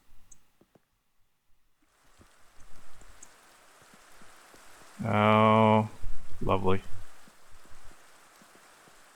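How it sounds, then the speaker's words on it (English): Steady rain falls in the Minecraft video game as a soft, even hiss that runs the whole length, while someone speaks briefly over it midway. "Don't really need the rain right now,"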